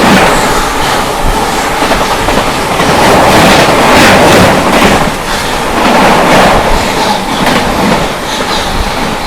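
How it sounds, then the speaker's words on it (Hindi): The 12418 New Delhi–Prayagraj Express roars past close by, loud and continuous, with a rhythmic clickety-clack of wheels over rail joints throughout. "सामने से आती 12418 न्यू दिल्ली प्रयागराज एक्सप्रेस।"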